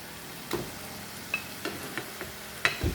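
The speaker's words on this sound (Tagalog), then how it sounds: "Lagay ko din yung egg" An egg frying in a pan gives a steady close sizzle, broken by a few light clicks and taps of a utensil, with no talking.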